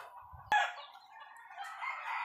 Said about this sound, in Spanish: un gallo bien hecho, bonito y buena figura